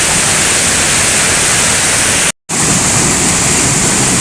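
Steady, loud rushing roar of Urulikkund waterfall in Kannur, a continuous broadband wash of falling water with one brief dropout midway and no voices.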